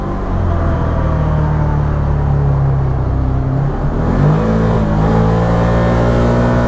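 Engine of a Can-Am Maverick Sport Max 1000R side-by-side revving hard under acceleration, a loud continuous droning rumble with rising and shifting pitch, recorded from the cabin with no talking.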